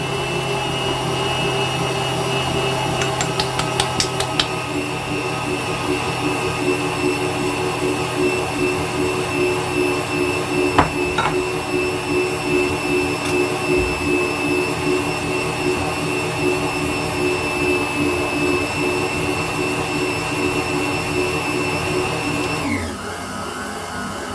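A KitchenAid stand mixer runs steadily at higher power, a loud continuous motor whine with a constant hum, with no talk over it, until it cuts off near the end.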